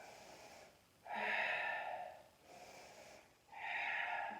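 Heavy, forceful breaths during a core stability workout, alternating strong exhales and quieter inhales in a steady rhythm, close and alone without speech.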